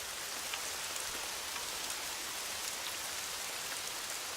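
Rain falling in a rainforest, a dense, steady hiss of drops on foliage with scattered louder drips, even and continuous throughout, with no voices.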